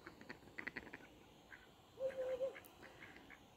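Faint quacking from ducks on a lake with water lilies, a few soft calls midway against a quiet outdoor background with light scattered sounds.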